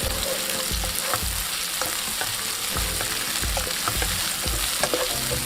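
Finely chopped onion frying in a pot of oil for a mixed vegetable pulao, sizzling steadily and close while a spoon stirs it in regular scraping strokes, with no voices.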